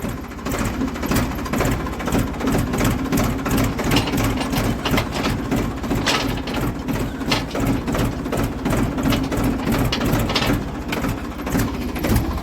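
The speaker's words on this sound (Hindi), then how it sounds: "थोड़ा सा आगे आ गया था ट्रैक्टर" A Ford tractor engine chugs with a rapid, even mechanical knock while working a field of dry sugarcane leaves. It is loud, close and continuous, with sharper clanks now and then and no speech.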